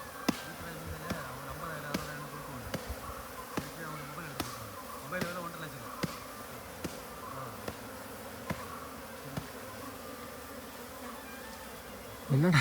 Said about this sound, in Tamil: தேனீக்கள் உள்ளே போயிட்டே இருக்குது, தெரியுதுங்களா?